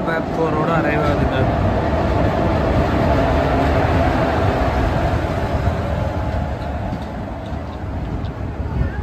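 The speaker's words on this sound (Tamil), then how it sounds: "அரக்கோணம் பிளாட்ஃபோரோட அரைவ் ஆகுதுங்க." An express train pulls into a station platform, a loud continuous rumble of rolling wheels and carriages on rails with steady rattling, no clear pauses.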